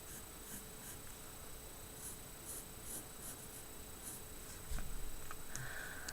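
A pen sketches a polygon on paper, with soft, faint scratching strokes in short bursts over quiet room hiss.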